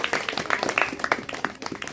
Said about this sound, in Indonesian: Kasih aplaus untuk teman-teman kita.